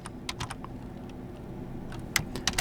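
Keys clack on a computer keyboard while code is written, a close run of quick uneven taps with small bursts and pauses, no voices.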